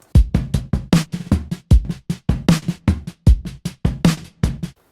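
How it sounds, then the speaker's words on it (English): A drum kit groove with heavy processing, the kicks and snares sounding bigger and brighter, driving a steady beat with ringing, effected tails. "let me add in all the effects and processing I did to the drum kit"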